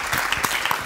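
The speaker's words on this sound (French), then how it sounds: "Applaudissements pour Diapresse." Studio audience applause on a French-language talk show: a short, dense burst of clapping that fills the moment at a steady, fairly loud level.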